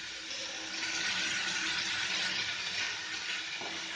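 Chopped vegetables for masala bonda filling sauté in a pan with a steady, close hiss and sizzle that holds evenly for several seconds, with no voices.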